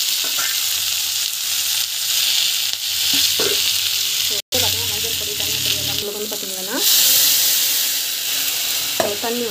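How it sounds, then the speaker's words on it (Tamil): Steady sizzling and crackling of mixed vegetables sautéing in a pan for sambar, with occasional stirring scrapes, loud and close throughout. "நல்லா வதங்கும்"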